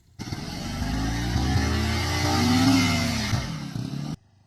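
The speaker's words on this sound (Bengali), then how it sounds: "এই ছেলেটা নদীতে বাইক চালিয়ে কী মজা পাচ্ছে।" A motorcycle ridden along a riverside in a village, its engine droning steadily and rising in pitch as it revs past close by, loud and alone for about four seconds before cutting off.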